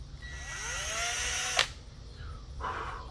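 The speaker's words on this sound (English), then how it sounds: "I'm trying to keep the drill as straight as possible." Power drill boring holes for a tachometer and hour meter on a two-stroke 18 hp Hangkai outboard, a steady rising whine running for about a second and a half, then stopping with a sharp click and quieter handling noises after.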